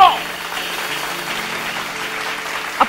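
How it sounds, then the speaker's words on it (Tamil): A church congregation claps together during a Tamil sermon, a continuous moderate wash of hands clapping with the preacher's voice faintly present under it. "கைத்தட்டுங்க."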